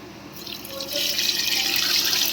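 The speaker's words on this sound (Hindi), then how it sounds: "अब पानी लेने गई हैं, अब डाल दिया है इसमें पानी," Water pours into a pressure cooker for biryani, a steady splashing stream that grows louder and fuller as the pot fills.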